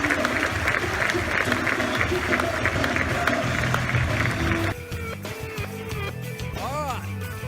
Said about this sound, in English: Would you give a massive round of applause for the founder of SOLIDteknics?